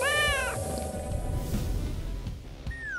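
A kitten meows in two parts: a longer harmonic cry at the start and a shorter rising mew near the end, close and clear over a low rustling background.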